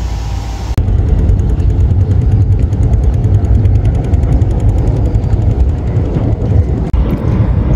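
Passenger launch MV Shuvoraj 9, out of Barishal, speeds toward Sadarghat in Dhaka: a loud, steady roar of engine drone and rushing wind fills the whole stretch, with a brief dip near the end.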